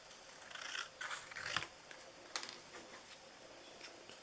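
Scissors cut paper for a papercraft heart ornament in a few quiet, close snips and crisp paper rustles, with faint ticking between cuts.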